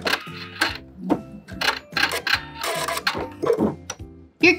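A sewing machine stitches the casing of a string bikini top in short rhythmic bursts, stopping and restarting several times, close and clear.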